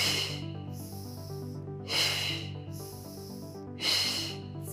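Forceful breathy exhales during a core workout, with three broad bursts of breath noise repeating at a steady pace over sustained background music.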